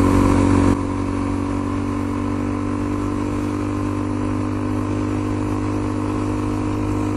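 A motorcycle on knobbly tyres rides fast along a dirt road, its engine a loud, steady drone with a constant low rumble, alone without talk.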